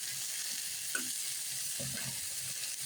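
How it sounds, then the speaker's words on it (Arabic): Onions fry gently in a pan for a moussaka-style dish, giving a soft continuous hiss of sizzling with a few faint clicks, quiet and close with no speech. "وهنا البصل بيتحمر اهو"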